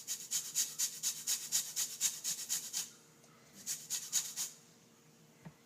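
Citrus peel is rubbed over a grater for a pork marinade, a quick regular run of about a dozen scraping strokes, a short pause, then a few more, close and soft.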